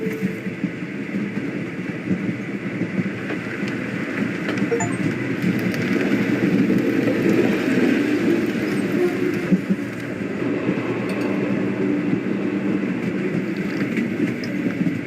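A train travels steadily through the Victorian-era game Sherlock Holmes: The Awakened, a continuous rumbling, rattling ride at moderate loudness for the full length, with no clear speech on top.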